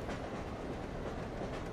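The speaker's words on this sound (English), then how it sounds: "just as the sleepy train rolls along through the wilderness" A train rolls steadily along the tracks, a continuous, even rumble with a soft rhythmic clatter from the wheels, close and moderately loud, with no voices.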